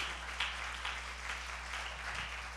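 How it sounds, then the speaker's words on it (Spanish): A congregation at a memorial service applauds, a broad, steady wash of many hands clapping at moderate loudness, heard from within the room over a low constant hum. "Le damos un aplauso al Señor."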